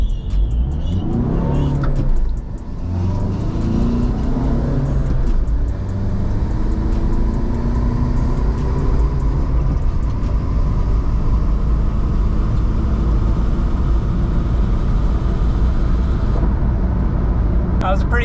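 VW diesel car accelerating hard on a drag strip, engine droning and rising steadily from inside the cabin, loud and continuous, with a person talking briefly at the start.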